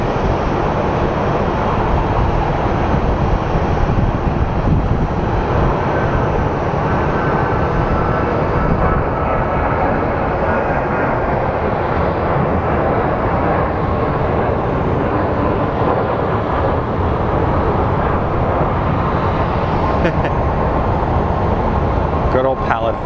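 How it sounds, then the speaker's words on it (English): A Southwest airliner pushing back at Phoenix Sky Harbor airport, a loud, steady roar of engine and ground-equipment noise that fills the whole stretch without letup. "we do have a plane pushing out"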